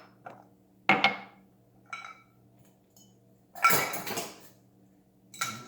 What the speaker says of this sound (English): Now let's strain it into the glass.